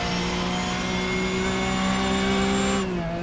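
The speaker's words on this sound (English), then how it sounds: "the thing sounds like a proper racing car" A sportscar racing engine in the iRacing simulator, IMSA SportsCar Championship at Barber, holds a loud, steady high-pitched whine that shifts as the revs drop near the end.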